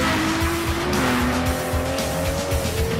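Ferrari and Aston Martin sports cars racing, engines droning with shifting pitch and tyres squealing, a sustained loud motor roar throughout.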